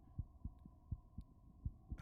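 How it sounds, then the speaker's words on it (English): A steady, muffled heartbeat thumps low and close, about eight beats in quick succession over a faint hum, with no voices. "heartbeat growing faster, louder, more erratic with every step"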